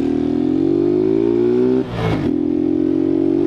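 A delivery motorcycle on the road revs up in a loud, rising engine whine, briefly dipping mid-way as if shifting gear, then climbing again, close and continuous with no talk.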